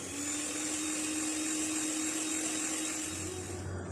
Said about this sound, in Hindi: अंडे के साथ इसको बीट करेंगे।